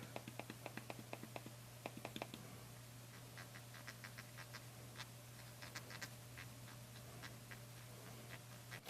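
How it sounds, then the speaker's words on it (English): A Fidgimoto Vortex fidget toy turns and clicks, giving a quick run of sharp ticks followed by sparser, quieter clicks, close and soft over a steady background hum. "And then we also have a clicking as well."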